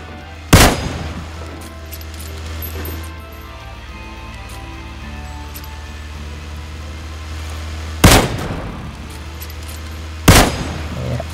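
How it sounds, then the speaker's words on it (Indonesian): Video game gunfire rings out in three loud, sharp bursts, one early and two close together near the end, over a steady low background hum. "tembak terus."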